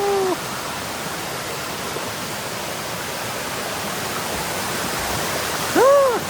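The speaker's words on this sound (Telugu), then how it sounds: "మీరు చూస్తున్నారు కదండి, ఇదేనండి జలపాతం." A forest waterfall swollen after ten days of rain gives a steady, loud rushing roar of falling water, with brief high tonal calls at the very start and end.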